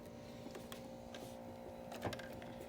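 A sewing machine stitching down a face mask strap, a faint steady mechanical whir with a small bump near the end, quiet and without talk.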